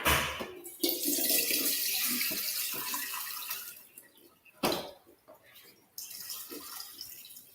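Kimchi cabbage is drained into a sink, water splashing and trickling in irregular bursts with a few drips and brief pauses, fairly faint and close.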